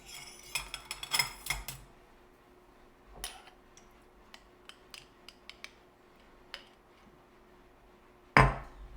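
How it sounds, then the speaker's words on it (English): A tablespoon scooping strawberry preserves from a jar, sparse close metallic clinks and taps with a sharper clack at the end, quiet in between. "Now I'm going to take a tablespoon of strawberry preserves."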